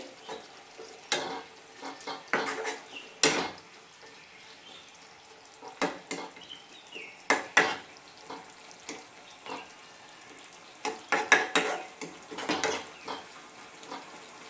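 Papaya chutney being stirred in a pan: irregular scraping and clacking strokes of a spoon against the pan over a faint soft sizzle, close and fairly quiet, with no talking.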